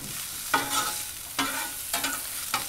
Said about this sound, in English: One last mix together.